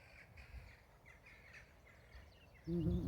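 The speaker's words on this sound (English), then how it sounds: "All the birds are flying around." Crows caw in short harsh calls among flying birds outdoors in the early morning, several faint distant calls scattered over low ambient noise before a louder, nearer sound rises at the end.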